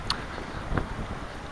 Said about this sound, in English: it's quite windy out